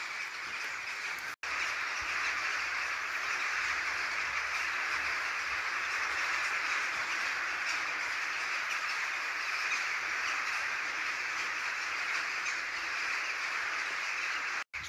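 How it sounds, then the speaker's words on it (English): Dense, continuous chorus of many birds in the trees above a rainy forest camp in Scotland, a loud, steady wash of calls with no talking. "I don't know what the hell's going on up there, but there's a lot of birds."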